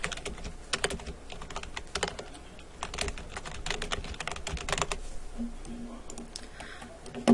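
Quick bursts of typing on a computer keyboard while a question is entered into an online test form, with close, irregular clicking keystrokes and short pauses between the runs.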